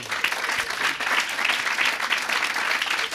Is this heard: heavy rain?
no